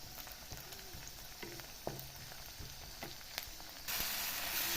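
Onions and tomato frying in a pan over a medium gas flame make a quiet, steady sizzle with scattered stirring clicks, and the hiss swells near the end.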